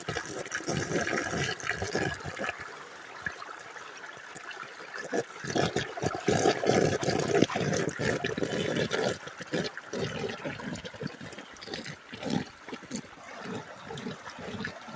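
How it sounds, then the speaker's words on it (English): Water runs through a gold sluice bucket feeder loaded with sticky clay at low water flow, a continuous gurgling, splashing rush with irregular surges and knocks, heard close throughout. "let you watch the sluice run while I dump this half bucket through"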